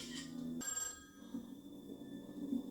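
A telephone rings in a tense scene of the TV drama Squid Game, a steady electronic ring with sustained tones, heard at moderate level over a low music bed with no talk.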